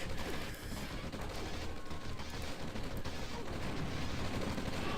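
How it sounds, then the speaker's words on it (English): Artillery barrage and gunfire in a real-time strategy video game battle, a dense, continuous roll of booms and shots at steady loudness throughout. "Now the artillery is coming into play."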